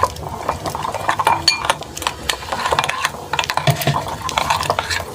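Spiced batter for fried eggplant whisked in a bowl, a quick rapid clatter of utensil against the dish, close up, with brief pauses between bursts.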